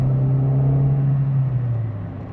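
A 1998 Ford Escort engine accelerates with a steady, loud low drone that rises slightly in pitch, heard up close with no talking.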